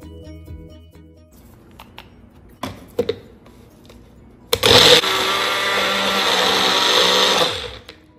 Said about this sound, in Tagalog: i-blender ko muna tong atay. Ang ating chicken liver.